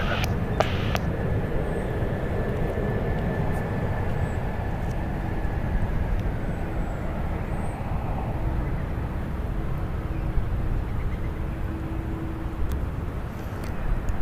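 A Frontier Airbus A320neo in Chocolate the Moose livery arrives at San Francisco International after a flight from Chicago, its broad steady engine roar rumbling low and continuous for the whole stretch.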